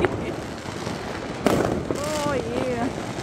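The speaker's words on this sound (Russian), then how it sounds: "Уже люди все свои салюты побомбили." New Year's Eve fireworks burst in sharp cracks and pops from several directions, moderately distant, under people chatting, with a whistling rocket rising in the middle.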